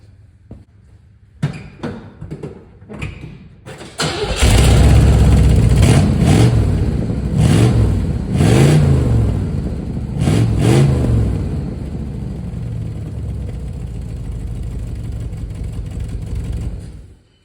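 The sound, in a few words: 1958 Plymouth car exhaust, engine starting and revving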